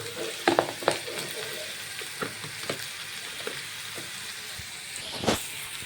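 Chopped onions frying in a pan with okra for a Gujarati masala curry, a soft continuous sizzle broken by several scraping stirs, close and fairly quiet, with no talking.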